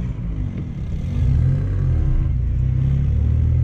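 A Volkswagen Polo engine rumbling loudly up close, rising in revs as the car drives, with a low steady drone.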